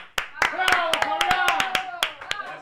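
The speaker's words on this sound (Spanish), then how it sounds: "primero lo aplaudimos a él" Applause in a Spanish-language live stream as a columnist is welcomed: a few close, sharp hand claps at an irregular pace, with voices talking and calling out over them.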